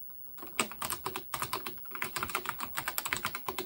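Keys clatter quickly on a computer keyboard while text is entered in the Apple Pascal editor on an old Apple computer, a dense, close run of crisp clicks in uneven bursts.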